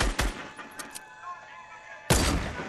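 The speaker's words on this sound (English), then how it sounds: "they're getting shot at from somewhere else" Video game gunfire, a few sharp close shots at the start followed by a quieter lull with faint distant activity, then another loud burst near the end, with no clear talking.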